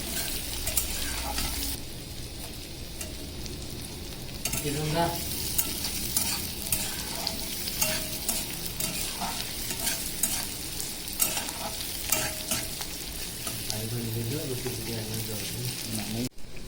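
Onions fry in a pan over a gas flame for two truck drivers cooking a meal, a steady sizzle with repeated scraping stirs throughout and faint voices underneath.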